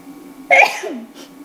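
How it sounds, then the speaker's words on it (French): One sharp, close human sneeze from a woman during a card reading, loud and sudden, followed by a brief breathy tail in a quiet room. "J'ai éternué."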